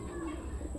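Racing pigeons cooing in a loft during an afternoon fly, with low, soft, continuous coos close by and no voices.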